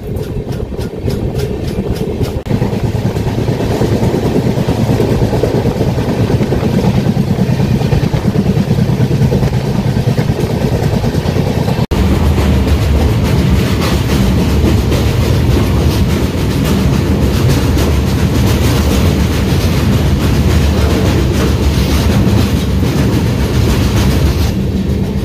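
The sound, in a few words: Garib Rath Express train running on rails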